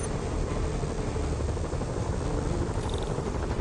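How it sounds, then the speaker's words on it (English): In the Marvel's Spider-Man video game, helicopters hover over the city and give off a dense, continuous rotor rumble and wash. The noise stays steady and fairly loud throughout, with no talking. "Bet I can use those helicopters to swing"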